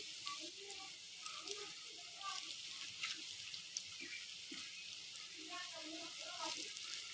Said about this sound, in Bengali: আমি কিন্তু একদম লো আছে ভাজে নিচ্ছি